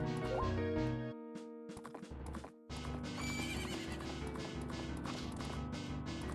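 A horse in a video game, ridden through a neighborhood, with a clear whinny followed by steady rhythmic hoof clip-clops at a running pace, close and moderately loud.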